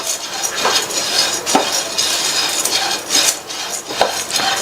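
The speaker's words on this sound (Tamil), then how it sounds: "இதை மிதமான தீயில வச்சு ஒரு 2 நிமிஷத்துக்கு மட்டும் வறுத்துக்கங்க" Roasted gram (pottukadalai) tossed in a pan over medium heat, giving a steady rattling scrape with repeated light clinks of a spoon against the metal pan, fairly close and continuous, with no voices.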